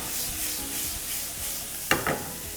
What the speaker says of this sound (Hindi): और अब जी मटरों को भूनेंगे।